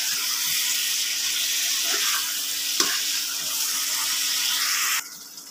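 Ridge gourd and potato pieces fry in spice paste for a mrigal fish curry, giving a steady loud sizzle with a few soft stirring knocks before the noise drops suddenly near the end.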